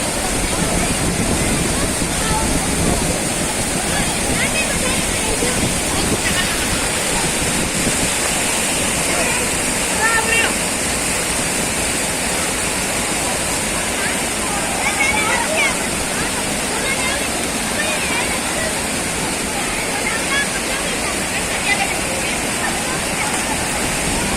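Constant rushing, splashing water fills the air where people are bathing, a thick unbroken roar with small bursts of sloshing. Distant voices sit faintly under the water.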